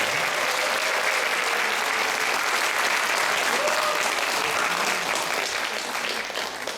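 A large audience applauds a Korean traditional music (gugak) ensemble at a church concert, the clapping dense, steady and sustained throughout, with a faint murmur of voices beneath.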